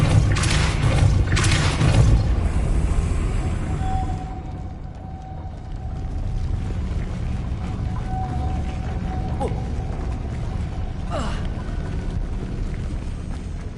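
A spinning mechanism in the Hogwarts Legacy video game grinds as it raises a platform, a loud, low, continuous rumble with booming swells early on and a faint sustained tone running through it.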